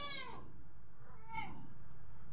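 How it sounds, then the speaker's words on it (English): A cat yowls twice, drawn-out and wavering, heard faintly over a low background hum. "It was my cat just shouting in the night."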